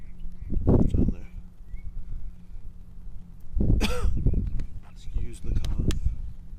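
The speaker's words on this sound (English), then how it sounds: "Excuse the cough." A man coughs and clears his throat in several rough bursts while fitting a larger fuel deck fill with a hole saw. Background rumble and shuffling sit between the outbursts.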